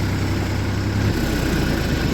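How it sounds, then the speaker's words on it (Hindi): Tractor engine idling steadily after rotavator tillage of a sugarcane field, a continuous low rumble with close, constant vibration that drops slightly in pitch partway through as it is being shut down. "दोस्तों अब बंद कर रहे हैं जी, ट्रैक्टर को रोक रहे हैं।"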